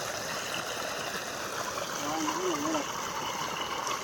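Irrigation water flowing through a farm field in the morning, a soft, steady rushing trickle heard from close by, with a faint voice briefly in the background.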